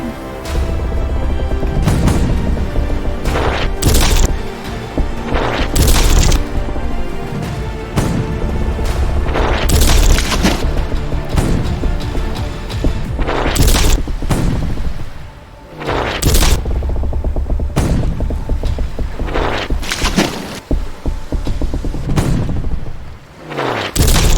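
Heavy booming blasts of pirate cannon fire in a Lego pirate brickfilm, again and again, loud and close, each burst followed by a rumbling tail, continuing steadily for over twenty seconds.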